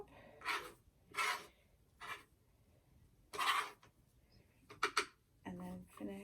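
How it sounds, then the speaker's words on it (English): A spatula scrapes and mixes a two-part paste, giving several separate rasping strokes of varying length, close and fairly quiet, with short pauses between them. "Halfway through, you want to scrape off your spatula and then scoop it all back up."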